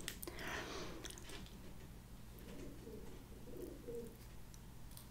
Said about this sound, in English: do you guys hear the pigeons?